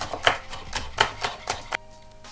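Green onions being chopped on a cutting board for shrimp pad thai, five crisp knife strikes in an uneven rhythm, close and fairly loud, with no voices.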